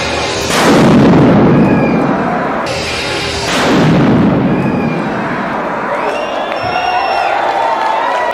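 A TATP explosion at a university demonstration gives two loud booming bursts, followed by crowd noise and faint voices as the echo fades.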